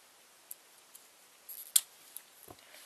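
Scissors snip off extra yarn while making a puffy yarn bunny, giving a few faint, sparse clicks with one sharper snip in a quiet room.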